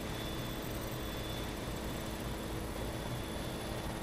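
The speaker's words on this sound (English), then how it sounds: "I'm just trying to get my helicopter here into a hover." Steady, dense rotor and engine roar of a helicopter hovering in Farming Simulator 17, loud and unbroken throughout with no talking.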